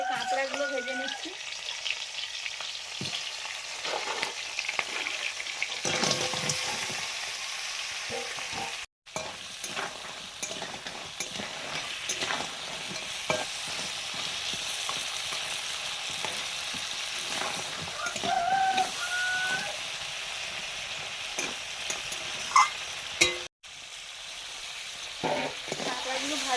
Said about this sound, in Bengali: এবারে কাঁকড়াগুলো ভেজে নিচ্ছি।